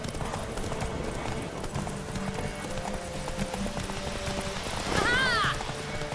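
Horse hooves clip-clop steadily in The Witcher 3 as a mount is ridden, with game ambience and a brief whinny-like call near the end; no one speaks over it.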